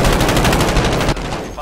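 Rapid automatic gunfire in Call of Duty Warzone, a loud, dense burst of shots that cuts off abruptly just before the end.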